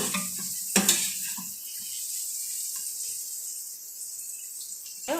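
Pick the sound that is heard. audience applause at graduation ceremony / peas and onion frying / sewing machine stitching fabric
peas and onion frying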